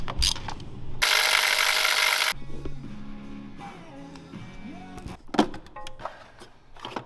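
Ratchet working on the spark plugs of a BMW E46 engine: quick clicking ratchet strokes mixed with metallic handling noises, a loud broadband burst early on, then lighter clicks and tool clatter close by.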